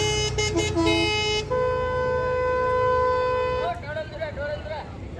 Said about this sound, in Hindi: यहाँ की बसों के जो हॉर्न है इतना इरिटेटिंग है ना